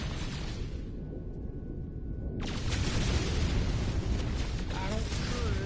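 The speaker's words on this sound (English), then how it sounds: "Whatever it is, I'm shooting it." A weapon fires in the space game No Man's Sky, a loud roaring blast over steady game noise that cuts in after a brief quieter gap and keeps booming on.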